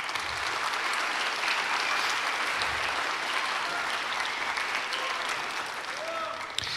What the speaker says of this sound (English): let's give these students a huge round of applause